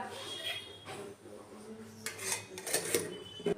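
Rice mixed with ghee and salt is packed into a tiffin box at home. Close metallic clinks and scrapes of utensil on container come in bursts, with a voice in the background.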